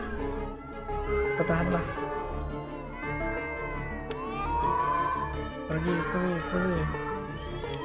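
Cats meowing repeatedly in the video game A Space for the Unbound, layered over game music and someone talking.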